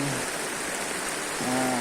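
Steady rain hisses continuously, an even wash of falling drops for a couple of seconds.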